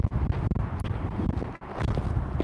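A strong outdoor gust of wind roars and buffets the microphone, rumbling continuously with uneven surges.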